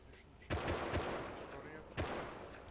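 Gunfire in the survival game Rust comes as sharp, loud bursts of several rapid shots, one cluster early and another a moment later, over a low ambient background.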